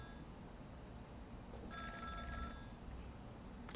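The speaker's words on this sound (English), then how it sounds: "and we have a phone call." A telephone rings in the video game Ghost Trick, a bright electronic trill rising over a steady low game background hum for about a second before fading.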